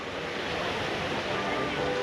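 Waves break along the Adriatic Sea shore at Grado in a steady, moderately loud wash with some wind rumble on the microphone.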